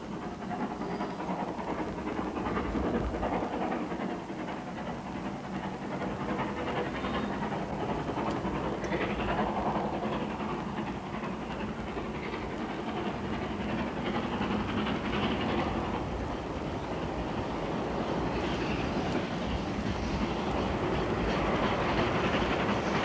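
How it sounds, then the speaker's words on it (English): Steam locomotive Nunney Castle running along a long straight stretch toward Culgaith Tunnel, a continuous heavy rumble and rhythmic rail clatter that swells slightly as it draws nearer, with no voices. "On a long straight stretch, Nunney Castle approaches with warning whistle and heads for Culgaith Tunnel"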